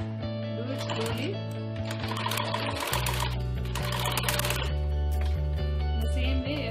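A sewing machine stitches a small keychain pouch with a loud, steady mechanical whirr whose speed shifts in stretches, close up and continuous.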